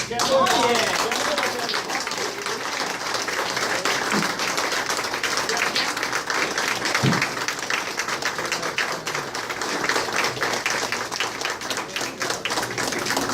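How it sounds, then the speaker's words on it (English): Audience applause at a district recognition ceremony, a dense wash of many hands clapping that holds steady and loud for the whole stretch, with a few voices audible beneath it. "So can you give a round of applause?"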